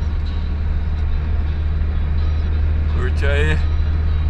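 A truck engine rumbles with a deep, steady drone throughout while someone talks over it.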